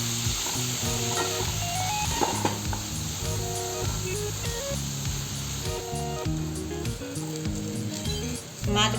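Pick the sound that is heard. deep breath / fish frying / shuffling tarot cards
fish frying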